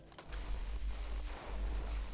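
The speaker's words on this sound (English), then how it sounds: "And the fireworks go off." Fireworks burst in the survival game Rust, a rapid crackling volley of sharp pops with low rumbling booms that continue steadily throughout.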